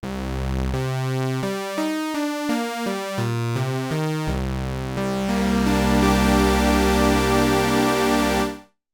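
A Prophet Rev2 synthesizer patch of two stacked, slightly detuned sawtooth oscillators plays a buzzy, bright sequence of sustained notes and chords, then holds a rich final chord before cutting off cleanly, with no voice.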